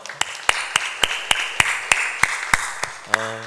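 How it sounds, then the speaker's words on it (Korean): A church congregation at a Sunday evening service gives about eleven sharp, evenly spaced claps in a steady rhythm, then a sustained keyboard tone enters at the end. "박수로 영광 올려드리겠습니다."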